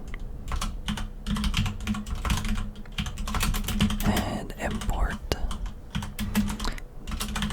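Rapid, crisp clicking of keys being typed on a keyboard fills the scene at close range, steady bursts of keystrokes running under soft whispered speech.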